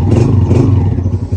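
A Honda CG 125 motorcycle engine idles close by just after its electric self-start, with a loud, steady low thump and chug and a slight wobble in level.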